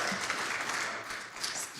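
Audience applause at a live candidate forum, a dense, steady patter of many hands clapping across the room, sustained throughout at moderate distance with no voices over it.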